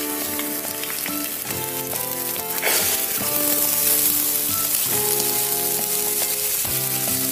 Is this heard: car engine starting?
no